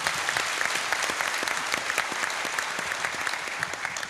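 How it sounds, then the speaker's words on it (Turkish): Audience at a Bursa hunters' workshop applauding the hunters, a dense, steady wash of many hands clapping throughout, fairly close and loud, with no talk over it. "O avcıları alkışlıyoruz arkadaşlar."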